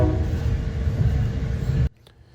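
Onboard a Metra Electric District commuter train in Chicago: a loud, continuous low rumble with steady wheel and track noise, which cuts off abruptly near the end, leaving near silence.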